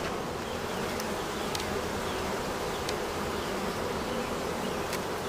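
Dense, steady hum of many honey bees buzzing around a strong swarm hive, close and continuous throughout, with a few faint high clicks overhead and no voices.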